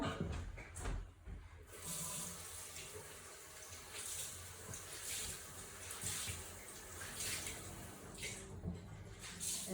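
A sink tap runs to wet a towel during a facial, a steady close splashing hiss with brief shifts as the cloth moves under the stream.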